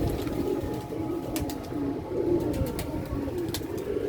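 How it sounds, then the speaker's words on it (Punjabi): Flying pigeons, around 200 to 250 birds in a large cage, keep up a soft, continuous cooing murmur with occasional wing flaps and faint clicks, heard at a moderate distance. "ਇਹ ਸਾਰੇ ਉੱਡਣ ਵਾਲੇ ਕਬੂਤਰ"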